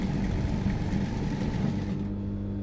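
A sewing machine hums steadily while stitching a saree border onto a blouse sleeve, a close continuous mechanical whir that cuts off near the end.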